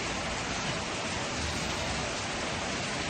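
Steady rain pouring down in the open on the Kuakata road during a motorbike trip, a dense unbroken hiss that stays even and fairly close throughout, with no voices.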